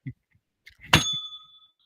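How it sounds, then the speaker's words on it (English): A single bright bell strike rings out and slowly fades, preceded by a few faint knocks and clicks. "I hit the bell."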